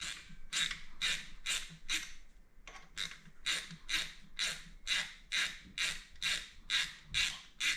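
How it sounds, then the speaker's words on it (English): A gear jammer tool being taken off an Aprilia Tuono engine during front-head valve clearance work, giving a close, steady run of about a dozen rhythmic ratchet-like clicking bursts with a short pause early on and no talking. "I'm taking off the gear jammer tool"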